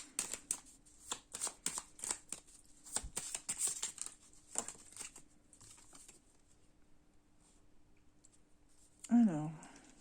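Playing cards are shuffled and drawn in a run of rapid crisp riffles and flicks over the first half, then quieter handling, and a voice speaks briefly near the end.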